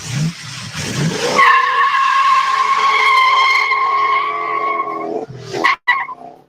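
A classic muscle car with an original four-speed gearbox and new carburetors drives hard, giving a loud, sustained, squealing howl for several seconds that breaks into shorter bursts at the end.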